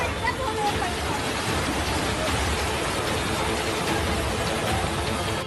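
Heavy rain pouring steadily in Mumbai, a dense, continuous broadband roar that holds even and loud for the whole stretch, with faint indistinct voices blending in underneath.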